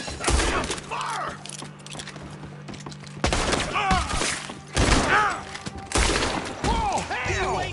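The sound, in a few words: gunfire in the video game Red Dead Redemption 2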